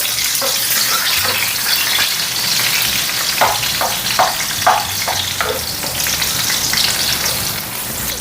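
Garlic and onion sauté in hot oil for kare-kare sauce with a loud, dense, continuous sizzle, broken by a few brief stirring scrapes near the middle and no speech.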